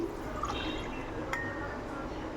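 Liquid is poured from a tumbler into a cooking pot for rice and lentils, a brief near splash and trickle with small glassy clinks over kitchen background.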